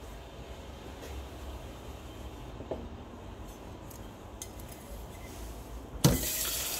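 Tap water running to rinse leftover detergent from a coffee machine's steam nozzle; a steady, moderate hiss of flowing water, then a louder gush near the end.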